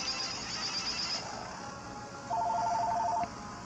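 A phone rings in the Pokemon Omega Ruby/Alpha Sapphire video game, with short repeated electronic beeps in two quick bursts over a steady background of game music, heard alone with no talk.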